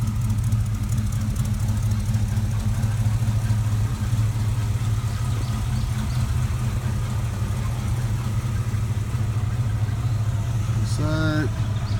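A truck engine idles steadily nearby, a low even rumble with a faint knocking pulse that holds throughout, with a brief chirping sound near the end.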